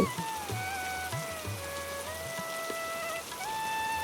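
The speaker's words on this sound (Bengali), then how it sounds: "আর যে বৃষ্টি শুরু হয়েছে মনে হচ্ছে না আজকে বৃষ্টি থামবে" Steady rain falls in a continuous hiss of drops, with a faint sustained tone running beneath it and no voices.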